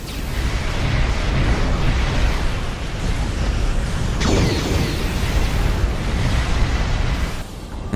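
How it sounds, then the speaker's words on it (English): Maelstrom Quantum torpedoes explode in the space game Star Trek Online as a loud, continuous rumbling barrage of booms lasting several seconds, with one sharper sweeping burst midway. "We got torpedoes, right? Of course. A Maelstrom Quantum."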